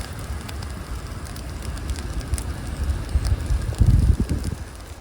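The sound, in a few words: wet wood campfire burning in winter storm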